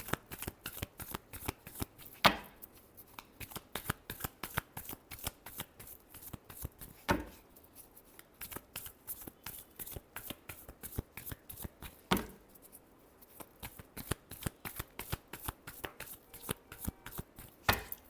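A deck of playing cards is shuffled over and over in quick, rhythmic riffles and flicks, close and crisp, with a few louder snaps along the way and almost no voice.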